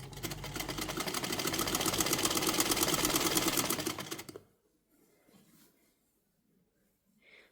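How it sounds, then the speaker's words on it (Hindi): A sewing machine runs steadily for about four seconds, stitching an Anarkali frock with kalis (flared panels), then stops, leaving near silence with faint handling noises. "और फिर ऐसे स्टिचिंग लगा देंगे।"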